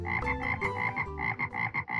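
A green frog croaks in a rapid series of rhythmic, close, loud croaks, one after another with no pause and no talking.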